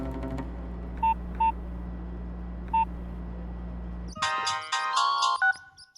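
A telephone being dialed to place a call, heard first as three short single beeps over a low hum, then as a quick run of dial tones that ends in a held tone, close and clear with no talking.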